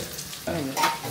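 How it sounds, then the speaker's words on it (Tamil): Curry leaves drop into hot oil for a Tamil pepper chicken dish and burst into a loud sizzle about halfway through, the crackle swelling and holding close up with no talking. "இப்போ கருவேப்பிலை விட போகிறோம்."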